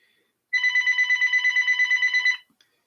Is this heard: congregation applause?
no